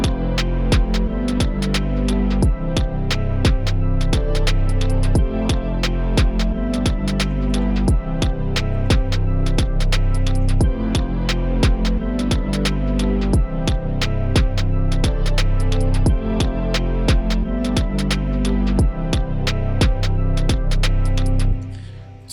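A programmed drum beat with snaps, percussion and dense hi-hats over a heavy low end loops steadily and loudly for about twenty seconds, then cuts off abruptly.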